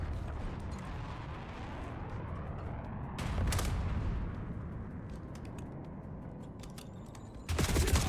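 SMG gunfire in Black Ops 2: bursts of rapid shots with distant explosions and rumbling game effects, moderately faint, with a louder burst near the end and no voices.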